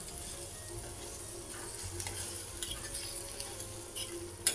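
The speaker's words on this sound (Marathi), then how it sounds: "आता ही उलटण्यानं अशी मिक्स करून घ्यायची आणि आपली चालूच आहे ती शिगडी." Eggs and onions for anda bhurji stirred with a spatula in a hot pan on a gas stove, a steady low sizzle with soft scraping strokes and occasional light metallic taps, close and alone with no talk.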